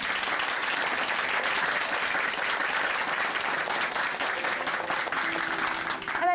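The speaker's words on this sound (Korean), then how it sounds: "다시 한번 귀한 간증 전해주신 형제님께 박수 보내드리겠습니다." A church congregation in Chuncheon claps for a brother after his testimony, a steady, even roll of applause from many hands lasting several seconds, with music beginning faintly at the close.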